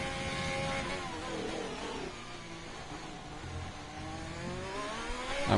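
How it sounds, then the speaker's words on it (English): Race car engine echoing through the Monaco tunnel during a racing series round, a strained harmonic drone that falls away then builds again toward the end, moderately loud with a reverberant low rumble beneath. "the lovely sound of the engine echoing through the tunnel"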